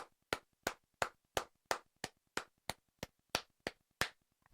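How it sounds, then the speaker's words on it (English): Clapping for a guest on a radio show: about thirteen crisp, evenly spaced claps at a steady slow rhythm, each one sharp and separate against near silence. "Let's give her a few claps."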